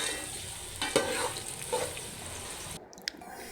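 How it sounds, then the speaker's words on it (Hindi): Onions fry in oil in a cooking pot while a spoon stirs them, producing a steady close hiss and sizzle broken by a few soft scrapes and knocks. "ऑयल में प्याज डाल दें, प्याज को अच्छे से ब्राउन करें, उसमें चम्मच हिलाते रहें।"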